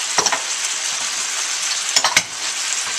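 Loud, steady sizzle of a braising pan for red wine short ribs fills the whole stretch, with a few brief sharp spits and pops as ketchup hits the hot pan.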